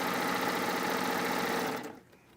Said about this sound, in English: I love the sound of the serger